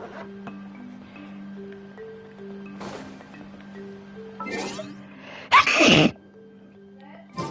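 One loud, sudden sneeze bursts out near the end, after a stretch of quiet background sounds and a few soft tones from Genshin Impact.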